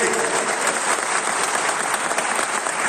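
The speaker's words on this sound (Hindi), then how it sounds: "इसे ताली बजाकर आपके स्वागत करें।" Dense, loud applause from an audience at a political party event in India, a steady wash of clapping with no breaks, close and full throughout.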